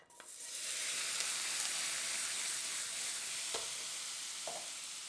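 Apples sizzle and fry in hot browning butter in a pan for a fritter recipe, a steady loud crackling hiss throughout with a few brief stirring clicks and scrapes, no talking.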